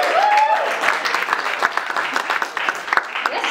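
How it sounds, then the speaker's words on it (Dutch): A crowd claps enthusiastically, with sharp individual claps standing out and a brief whistle near the start. "Een groot applaus!"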